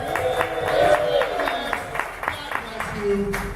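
Parents in a church variety show audience cheer, whoop and clap along with a comedian's prompting, a lively crowd swell with scattered claps and shouts throughout, mixed with voices.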